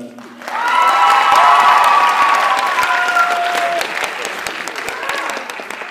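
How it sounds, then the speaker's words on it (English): Loud applause and whoops from a crowd at a high school culture night, clapping swelling in quickly with high-pitched cheers and shouts over it, then settling into steady clapping that tapers slightly toward the end. "we just need one more round of applause for that."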